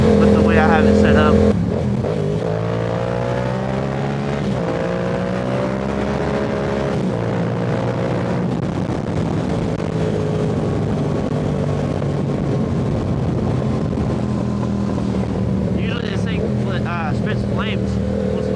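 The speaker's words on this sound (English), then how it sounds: "This bike does sound really good." A Yamaha R7 sport motorcycle engine drones steadily through a late-night ride, its tone rising and falling with throttle shifts, heard close and loud under a rider's voice with wind noise.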